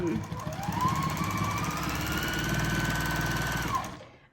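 A sewing machine doing free motion quilting runs in a fast, even stitching rhythm for about four seconds, close and steady, then winds down and stops.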